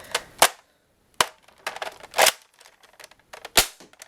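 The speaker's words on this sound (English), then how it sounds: "let's do a quick firing test" Sharp, snappy pops of a Nerf Raider blaster with air restrictors removed fire darts one at a time at irregular intervals, with faint clicks and rattles between shots.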